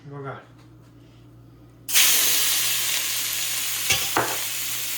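Garlic dropped into hot oil for tempering dudhi muthiya, a Gujarati bottle-gourd dish, bursting into a loud, steady sizzle after a quiet start, with a couple of stirring clatters on top of the hiss.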